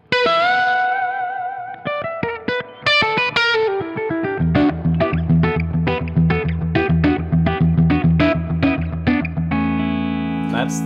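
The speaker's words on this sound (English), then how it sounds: "It seems like the reverb on this is a little bit more encompassing of like adding thickness to the notes" An electric guitar plays a sequence of notes and chords through an amp, with a noticeable reverb tail thickening each note.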